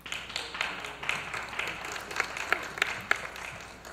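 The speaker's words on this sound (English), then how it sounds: "thank you for that light clap" Light, scattered applause comes from an audience at an academic symposium, a thin patter of individual claps at moderate distance lasting a few seconds before tapering off.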